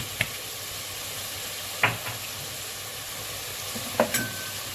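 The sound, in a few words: stirring cinnamon and ginger spices frying in a pot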